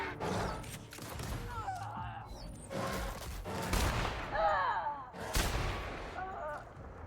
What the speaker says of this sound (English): I was just firing off a warning shot.